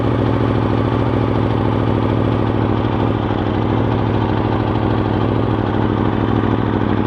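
Superbike engine idling steadily and close, a continuous even rumble with no talk over it.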